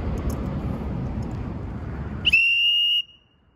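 A very loud, piercing whistle blast rings out alone for under a second after a stretch of rough wind-like background noise, holding one steady high pitch before cutting off.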